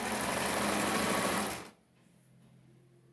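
A sewing machine stitches a skirt in a fast steady whir for about a second and a half, then stops abruptly, leaving quiet room tone.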